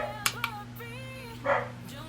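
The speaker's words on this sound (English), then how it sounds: "my dog can never just give me some time to like have him not bark." A pet dog barks a few times in short bursts from inside a home, moderately close, over a steady low hum.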